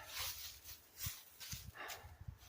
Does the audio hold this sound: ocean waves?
no